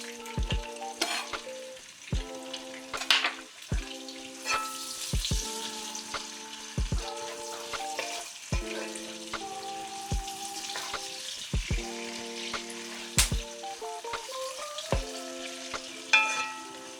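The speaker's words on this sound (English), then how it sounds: "We'll add in our onions as well to keep the oil fragrant." Onions fry in oil as the base for Ghanaian Fante Fante fish stew, a soft, steady sizzle broken by repeated scraping stirs and light pan clinks, heard close and quiet without speech.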